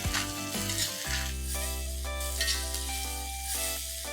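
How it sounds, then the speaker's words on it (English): Three sliced onions fry in a pan with a steady, fairly quiet sizzle, while tonal background music plays over it throughout. "I'm going to add 3 onions that I have sliced and I'm going to fry them nice and golden."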